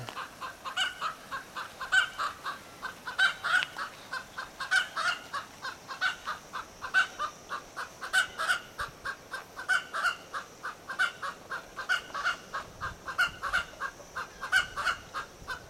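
A chicken clucks in a steady run of short, repeated calls close by, some of them louder squawks. The calls carry on for the whole stretch with no talking.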